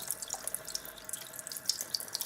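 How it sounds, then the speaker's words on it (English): Cold water runs from a tap in a steady, close splashing stream with faint drips and bubbling on top. No one speaks. "There, you see, I'm running"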